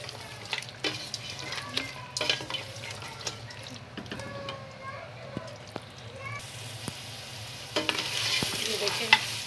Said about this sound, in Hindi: अभी ऑयल डाल के हमने इसे भूनना है, फ्राई करना है।